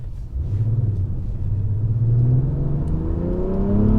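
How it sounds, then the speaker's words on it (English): A 2024 Acura TLX Type S engine in Sport Plus mode revs up steadily as a deep, smooth rumble that climbs in pitch, heard from inside the car with no talking. "I mentioned that it does sound sportier in Sport Plus, like it's a true audible difference between the other modes"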